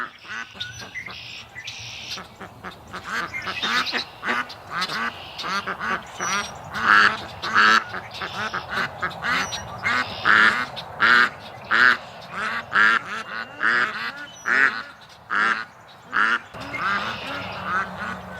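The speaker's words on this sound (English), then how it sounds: "walking around quacking like super loud this morning" Several farmyard ducks quack loudly and repeatedly on a morning, a dense run of harsh, close honks in uneven bursts with brief gaps, continuing without pause throughout.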